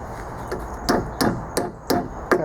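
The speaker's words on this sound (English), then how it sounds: "pick up my hammer" A hammer drives nails into salvaged scrap wood, five sharp, evenly spaced strikes ringing out close and loud over a low background hum.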